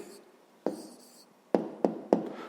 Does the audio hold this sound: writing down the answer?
yes